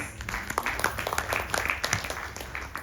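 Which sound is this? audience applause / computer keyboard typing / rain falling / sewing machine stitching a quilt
audience applause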